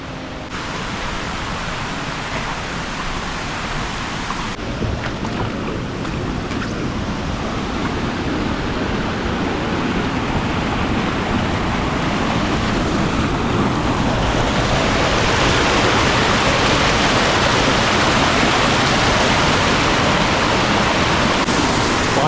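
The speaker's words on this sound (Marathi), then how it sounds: "पूर्ण इकडे ना डोंगराला पूर्ण वॉटरफॉलच वॉटरफॉल आहेत" Waterfalls streaming down a hillside above a road and farm fields make a steady, dense rushing roar that holds for the whole stretch and grows slightly fuller toward the end, with no one speaking.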